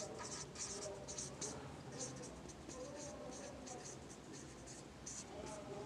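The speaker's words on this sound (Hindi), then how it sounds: "दोबारा लिखते हैं अभी।" Chalk or pen writing on a board during a Class 10 maths lesson, a run of short scratchy strokes in quick irregular bursts, close and fairly soft, with no speech over it.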